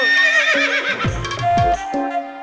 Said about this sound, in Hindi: घोड़ा सर आ रहे हैं